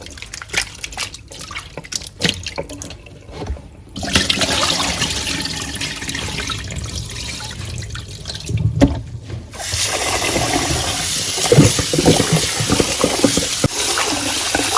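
Bulgur wheat is washed in water by hand, squeezed between the palms, with steady sloshing, trickling and splashing that swells into louder continuous rushing water partway through.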